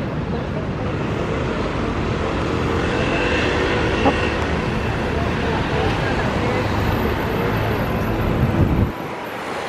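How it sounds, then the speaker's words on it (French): A Paris metro train rumbles steadily overhead across the Bir-Hakeim bridge, a loud continuous roar mixed with traffic, cutting off abruptly near the end. "Au-dessus, c'est le métro qui passe."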